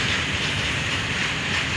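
A passenger train passes at Poznań Dębiec, producing a loud, steady rolling roar with a continuous hiss of wheels on rails and no pauses or talk.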